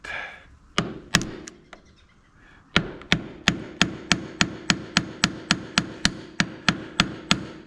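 Screwdriver prying at a water pump gasket seal, giving a long run of sharp, evenly spaced cracks and knocks after a few irregular ones, close and fairly loud with no talking.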